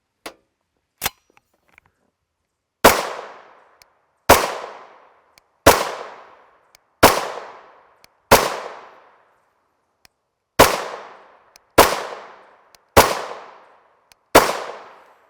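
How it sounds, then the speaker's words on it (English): A Ruger LC carbine with a 16-inch barrel fires 5.7x28mm 40 grain FMJ rounds in about nine sharp, evenly paced shots with short decaying echoes, one longer pause midway, and faint clicks before the string. "this is our Ruger LC carbine, 16-inch barrel."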